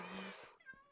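A pet cat named Oreo gives a single short, bright meow close by, indoors, sliding down in pitch at the end.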